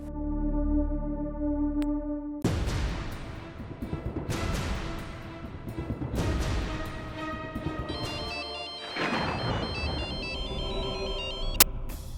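A telephone rings in a Hindi drama scene as a call is placed to a son, with a repeating electronic ringtone heard loud and close over a layered, dramatic background for most of the stretch.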